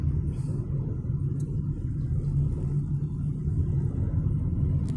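Constant low rumble of road traffic near a stoplight on a Saturday morning, a steady engine drone from surrounding vehicles with faint higher noises now and then, no talking.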